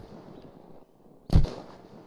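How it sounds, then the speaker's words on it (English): A single distant Timberwolf rifle shot in Unturned, one sharp crack with a short boomy tail against a quiet background. "someone's shooting with a Timberwolf"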